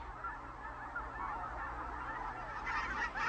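A flock of migrating geese honks continuously, many overlapping calls blending into a steady chorus at moderate distance, with no voices.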